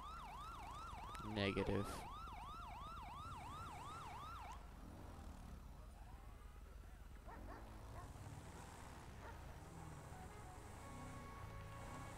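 A police siren in a patrol roleplay video game wails in repeated rising and falling sweeps, loud at first, then cuts out, leaving a low background hum with faint voices and a brief burst of noise.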